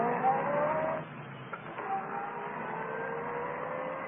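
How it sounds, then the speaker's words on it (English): Car starting up and pulling away in an old-time radio drama scene, a steady engine drone with a short louder burst at the start and a couple of faint clicks, filling the whole stretch without voices. "Well, then start this car"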